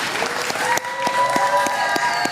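Large crowd at a Donald Trump rally applauding, a dense sustained clapping with scattered louder claps throughout, fairly loud and close.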